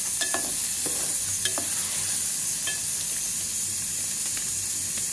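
Onions fry in a pan with garam masala for a tomato chutney, a close, steady sizzle broken by brisk metallic stirring scrapes and clicks at a quick, uneven pace.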